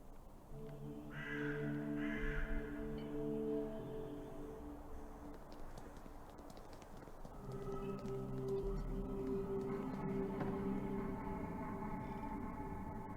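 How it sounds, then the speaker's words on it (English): Crows caw around a treetop house in the Saint Kotar game, with repeated harsh calls in overlapping bursts over a dark ambient drone, nearby and layered. "It's inhabited by dozens, if not hundreds of crows?"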